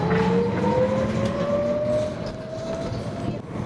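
A San Francisco Muni trolley bus passes on a city street, its electric motor whine sliding slowly downward in pitch over steady road rumble, loud and close before easing off.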